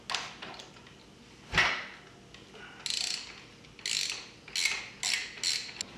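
A front sprocket nut on an Aprilia RSV4 motorcycle is spun off with a ratchet, giving a series of close metallic clicking and ratcheting bursts separated by brief pauses.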